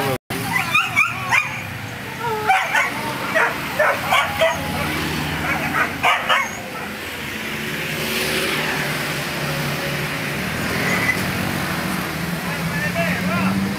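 Hunting dogs on a boar hunt barking in a quick rhythmic series of sharp yaps, close and loud, with people talking among them before the barking gives way to engine noise and rustling.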